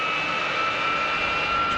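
An AV-8B Harrier jet engine spooling up in the DCS flight simulator, a steady loud broadband roar with a rising high whine, continuous and close throughout.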